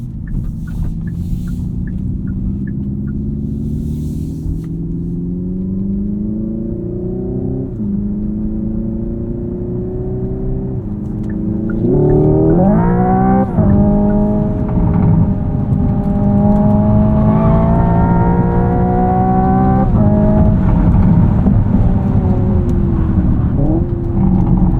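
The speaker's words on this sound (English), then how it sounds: "Let's go back and play around with our engine noise a little bit more." A 2025 Hyundai Ioniq 5N plays its simulated engine noise while driving, a loud synthetic engine tone that climbs through several rising pitch sweeps and abrupt shift-like drops, layered over road rumble and cabin whir.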